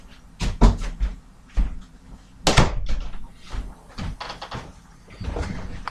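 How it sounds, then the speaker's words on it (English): A room door being closed, with several knocks, clunks and rattles of wood and latch spread over a few seconds, including one sharper bang near the middle, heard close up in a quiet indoor space without talking. "I forgot to close my door."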